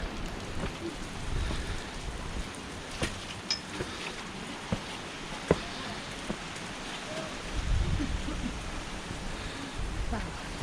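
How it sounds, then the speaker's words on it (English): Water drips and patters steadily along a wet hiking trail in Zion National Park, a dense rain-like hiss punctuated by sharper individual drops, with a brief heavier surge near the end. "It's dripping."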